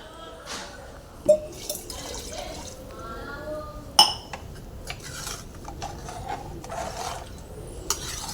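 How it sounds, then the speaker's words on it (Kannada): Water from a glass poured into a tomato rice masala in a pot: short splashing pours and trickles mixed with clinks of metal utensils and dishes, close by, with some speech in between. "ಆ ಗ್ಲಾಸ್ಲಿಂದ ಎರಡು ಗ್ಲಾಸ್ ನೀರು ಹಾಕೋತಾ ಇದ್ದೀನಿ ಇದಕ್ಕೆ"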